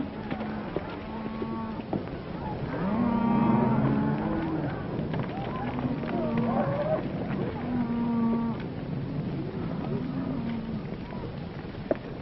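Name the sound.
cattle mooing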